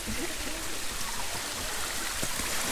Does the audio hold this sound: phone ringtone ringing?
no